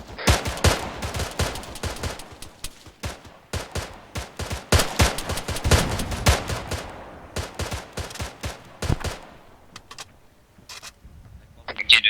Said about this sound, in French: Impeccable lance-grenade.